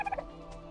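A dodo in the video game ARK: Ragnarok gives a quick burst of four or five gobbling, turkey-like squawks, close and moderately loud, then falls quiet.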